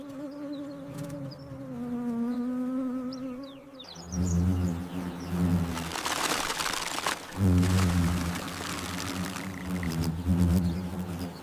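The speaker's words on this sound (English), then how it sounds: "The hornets swarm in defense, each making off with all the larvae they can grab." Giant hornets swarm around their nest, a dense, droning buzz of many wings close by. The pitch and intensity shift as the swarm moves in defense, rising to a louder, rougher churn partway through.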